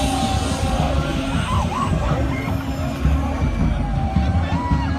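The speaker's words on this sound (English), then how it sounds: "The crowd cannot be controlled by the security agencies. As you can see, how it's happening live here." A large protest crowd in Enugu, out of control of security forces, yelling and shouting continuously amid dense outdoor noise, with rising cries, possible siren-like wails and general commotion close by.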